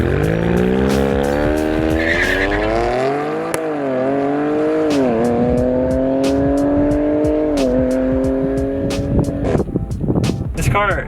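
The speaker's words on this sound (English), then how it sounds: "I did an all-wheel screeching burnout" A 2019 Audi RS5 does an all-wheel screeching burnout under launch control, the engine droning in rising and falling harmonics while the tires shriek at length. It is loud and close, with a voice toward the end.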